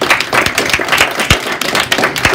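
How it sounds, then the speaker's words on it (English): Class applause in a high school psychology classroom, a crisp irregular clatter of individual hand claps from a small group, close and fairly loud. "Let's give them all a round of applause."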